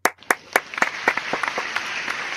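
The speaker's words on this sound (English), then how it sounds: "the biggest round of applause" A small audience applauds during an interview introducing Norman Fox of Norman Fox and the Rob Roys. A few sharp, separate claps open it, then the clapping thickens into a lighter, ragged patter that tapers off.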